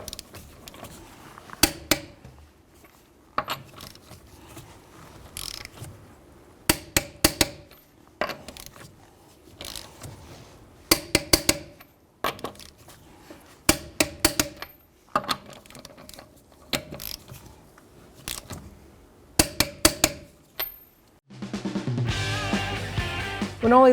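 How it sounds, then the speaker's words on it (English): Torque wrench tightening lug nuts with a 22 millimeter socket in a crisscross pattern on a 2011-2017 Honda Odyssey, sharp close metallic clicks in repeated clustered groups spread across the clip, then louder music-like sound at the end. "we're going to torque our lug nuts to 94 foot-pounds"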